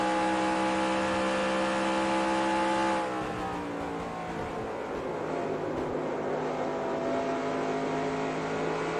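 Simulated ARCA stock car engine at Pocono in NR2003, a loud sustained drone with strong harmonics that drops in pitch as the driver lifts slightly entering a turn, then holds a steady lower note.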